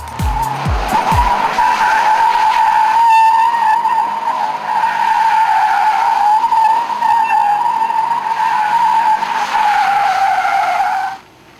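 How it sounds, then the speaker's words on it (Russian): Subaru Impreza WRX STI burning its tires, a loud, sustained high tire squeal with engine roar beneath, steady for about ten seconds before cutting off abruptly. "А чтобы не лишать удовольствия любителей пожечь покрышки"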